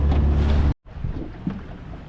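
Fishing boat engine running at sea on a kingfish trip, a loud low droning rumble that drops out briefly in a short gap, then resumes more quietly with wind and water noise.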